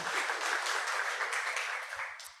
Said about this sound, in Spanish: Un aplauso para que nos calentemos.